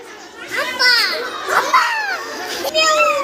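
Schoolchildren imitate a cow's moo with their voices, drawn-out, overlapping sung lowing calls rising and falling in a few loud bursts nearby.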